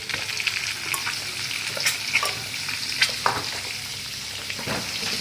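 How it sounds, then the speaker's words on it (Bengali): An egg fries with turmeric powder in a pan for anda do pyaza, giving a continuous close sizzle broken by a few sharp crackles and pops, with no voices. "যতক্ষণ এখানে আন্ডাটা ফ্রাই করছি"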